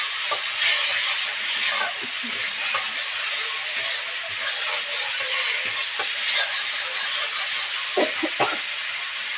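Spices for a potato and pointed gourd dorma are sautéed in a pan, making a continuous bright sizzle with soft, irregular taps and scrapes from stirring.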